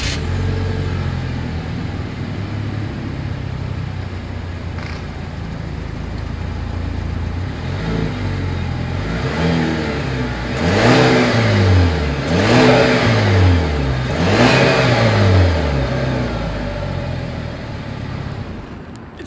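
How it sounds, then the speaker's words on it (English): Exhaust of a 2020 Chevrolet Malibu idling steadily, then three sharp revs rising and falling in quick succession before dropping back to idle, heard close from behind the car. "As always, here is that exhaust clip."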